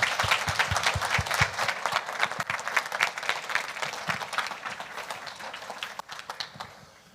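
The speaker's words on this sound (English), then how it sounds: "How about a round of applause for our electeds?" A conference audience at a State of the State legislative update applauds elected officials, a dense burst of clapping with distinct individual claps up close that gradually thins and fades over several seconds.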